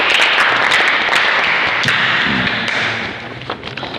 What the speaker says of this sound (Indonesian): Tepuk tangan kelompok A